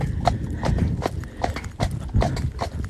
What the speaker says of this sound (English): there's horses in the field, Loki